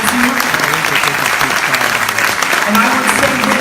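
Sustained clapping from the audience at a mayoral forum, a dense, even wash of hands filling the room for several seconds with faint voices mixed in.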